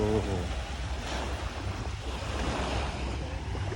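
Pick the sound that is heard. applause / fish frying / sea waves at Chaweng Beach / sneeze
sea waves at Chaweng Beach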